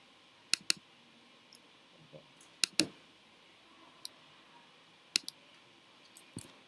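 A computer mouse clicks on a button during Java EE login testing, a scattering of sharp, isolated clicks spread unevenly across several seconds against a quiet room background.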